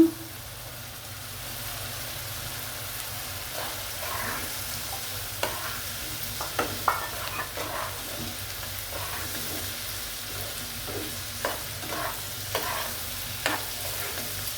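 Onions fry in a pan for a winter fish do peyaji, a constant low sizzle overlaid with scattered scrapes and taps of a spatula, close and moderately quiet throughout.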